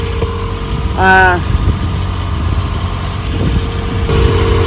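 A boat engine runs steadily at about 1700 RPM while cruising at four knots, a constant loud drone throughout. A brief tonal squeal cuts in early, and faint voices sit under the engine noise.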